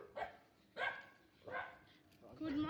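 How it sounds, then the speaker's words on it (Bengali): Street dogs bark at night on a Kolkata road, three separated bursts about a second apart, fairly faint and distant, followed by a whining or yelping call at the end. "সারা রাস্তার কুকুরগুলো শুধু ঘেউ ঘেউ ঘেউ ঘেউ ঘেউ ঘেউ"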